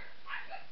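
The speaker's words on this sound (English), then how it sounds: "And if you hear dogs in the background, just don't worry, it's my mom's dog." A small dog gives a single faint bark or yip in the background of a quiet indoor room, brief and distant, with no talking.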